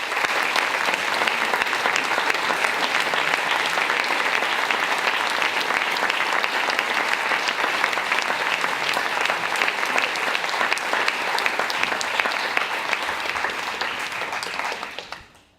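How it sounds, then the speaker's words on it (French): Long, steady applause from an audience welcoming the speakers at a talk event with Cyril Dion, staying full and even for about fifteen seconds before fading out abruptly at the end. "je vous propose d'accueillir nos intervenants sous vos applaudissements"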